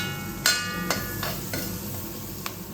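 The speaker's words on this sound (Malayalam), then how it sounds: "ഒരു 10-20 സെക്കൻഡ് ഒന്ന് ഇളക്കാൻ മതി." Onions frying in a pan and being stirred with a utensil: a steady close sizzle with several sharp clinks and scrapes at irregular intervals, and no talking.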